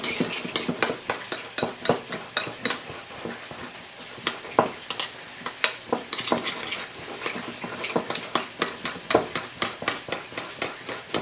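A metal utensil stirs olive oil into lemon juice and chopped shallots in a bowl, producing a rapid run of sharp clinks and taps against the dish, close and loud, with short pauses between bursts.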